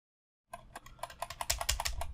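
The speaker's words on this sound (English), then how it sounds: "Now start typing in there." Quick, uneven clatter of fingers typing on a computer keyboard, starting after a brief silence and growing denser and louder, close to the mic with no voices.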